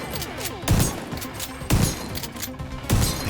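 Gunshots smash electronic display screens in The Division 2, a shooter game set in New York. Three heavy, crunching impacts land about a second apart, each with a brief shattering crackle, over a steady background din.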